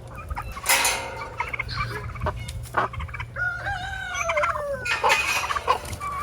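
Turkeys gobble repeatedly in a busy barnyard, with rising warbling calls and other fowl clucking close by.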